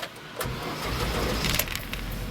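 A UAZ Hunter's engine cranks and catches after a short quiet moment, then settles into a steady, loud, rough idle that stays close by until the end, with a faint metallic jingle near the start.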